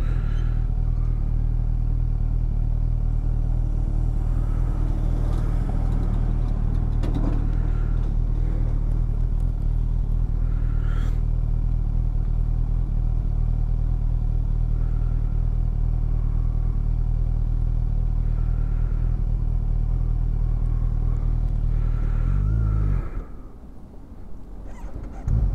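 A 2020–2021 Kawasaki Ninja 1000SX motorcycle engine idling at a junction, a loud close steady low rumble that holds for most of the time, then briefly cuts out and restarts near the end.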